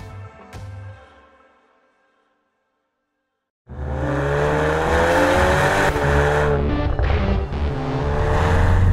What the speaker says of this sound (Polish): jedziemy Golfem R-ką, a więc hot hatchem, w którym istotne są wrażenia z jazdy